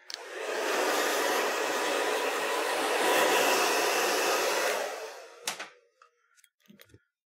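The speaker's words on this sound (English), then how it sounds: "So I'm going to use my hairdryer to just remove all of that" A hair dryer blows steadily for about five seconds to clear cut hair debris in a barbershop, then shuts off, leaving a few faint clicks and handling noises.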